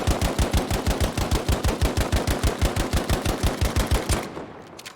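Video game gun on full auto fires a steady, rapid burst of about 40 evenly spaced shots that stops abruptly near the end, loud and up close with no talk.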